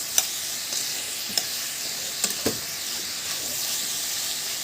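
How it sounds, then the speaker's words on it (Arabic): Boiled, chopped chicken gizzards sauté in a pan with a constant hiss and sizzle, broken by several distinct clanks and scrapes of a utensil stirring them, close by. "بتقلبي تقلبتين برضو، بتتشوح معاها تشويحه واحده بس"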